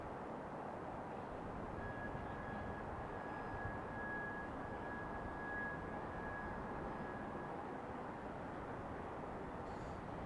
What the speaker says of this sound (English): SkyWest 3643 coming in from LaGuardia, New York, arriving in just 1 minute on that E175LL